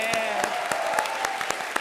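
Rhythmic hand clapping from a TV comedy show audience, evenly spaced and fairly close, with a voice speaking over it throughout.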